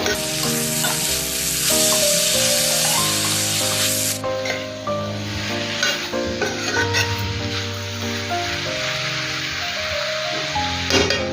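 Chili powder mixed into bitter gourd and tomato in a frying pan, with steady loud sizzling and repeated stirring scrapes, and a bright tonal hum running throughout.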